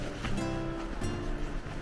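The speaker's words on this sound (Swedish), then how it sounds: "jag hör i alla fall bruset ifrån vattenfallet" A waterfall roars in the distance as a steady, broad rushing wash, with faint tonal sounds drifting over it.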